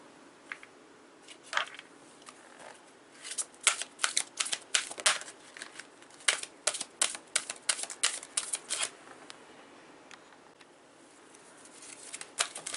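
Tarot cards are shuffled close by in quick, soft bursts of riffling and slapping, irregular flurries spread across the clip with quiet pauses between, no talking.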